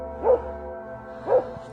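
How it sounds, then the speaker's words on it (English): A dog in the woods gives two single barks about a second apart, each short and moderately loud against a steady low background hum. "with a dog barking, off in the distance"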